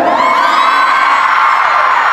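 A concert crowd at a show in Las Vegas screams and cheers together, a dense, loud, sustained wall of high-pitched shrieks and whoops with no pauses.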